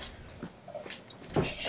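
A pet dog in a room near a computer lets out a couple of brief, soft whimpers, close by but quiet, mixed with faint background noise.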